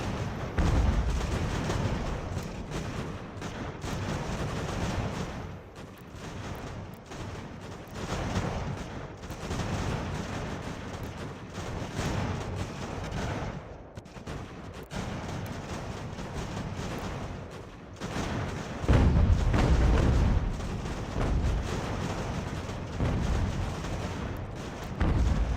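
Musket volleys and artillery fire from an Ultimate General: American Revolution battle form a continuous din of crackling shots and deep booms. The fire keeps coming for the whole stretch, with heavier bursts swelling near the end.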